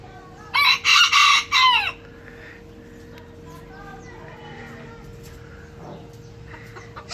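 A rooster crows once, loud and close, a strained, wavering call lasting over a second, followed by quieter farmyard background.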